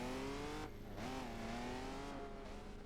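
A car engine in the racing video game The Crew runs steadily at high revs, its tone dipping and then climbing again as it shifts and accelerates, loud and continuous throughout.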